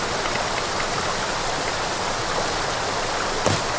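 Steady rushing of a river in a lush, leafy forest within an audio game, a continuous close broadband wash of flowing water with no talk and a brief brighter splash near the end.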